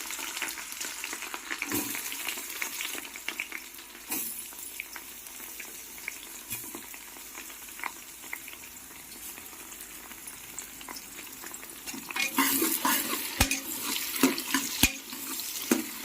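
Onions frying with biryani masala hiss softly and steadily with scattered crackles, then a louder rush like running water swells near the end.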